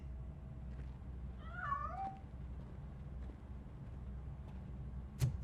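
A single drawn-out cat meow in the video game Robocop: Rogue City rises and falls over a low ambient hum, followed later by a brief thump.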